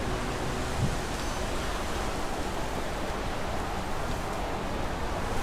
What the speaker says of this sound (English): they scan radio frequencies at a rapid pace, which creates a white noise